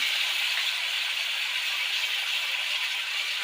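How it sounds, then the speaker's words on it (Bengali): Meat sizzles in a pan with browned onions, a soft, steady hissing crackle at low volume with no talk over it. "পেঁয়াজটা লাল লাল হয়ে গেছে, এখন মাংসটা দিয়ে দেবো।"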